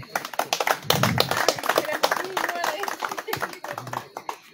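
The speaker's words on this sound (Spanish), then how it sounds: "lo recibimos con un fuerte y caluroso aplauso" Scattered audience clapping at a public works groundbreaking ceremony, uneven individual claps near and mid-distance with talk mixed in, building briefly and then thinning out.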